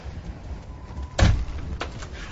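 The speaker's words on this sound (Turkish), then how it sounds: "Kapıyı kapayıp sürgüyü çek." A door is shut with a dull thud, followed by a sharper click or knock as it is bolted, all over a quiet room-tone background with no voices.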